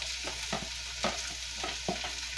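Celery ribs, carrots and onion sauté in a soup pot, a steady soft sizzle with a few brief stirring scrapes every half second or so, close and moderately quiet, no talking.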